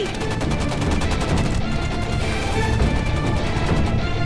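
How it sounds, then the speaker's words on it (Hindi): Dense rapid gunfire fills an action movie scene, a loud continuous burst of shots with crashing impacts throughout, with no gaps and no clear speech. "गोली चलाओ, चलो जल्दी।"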